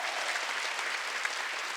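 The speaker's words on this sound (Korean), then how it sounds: "박수 세게 치라고." A church congregation at a Wednesday worship service claps in a dense, sustained burst of applause, loud and even throughout the short stretch with no voices over it.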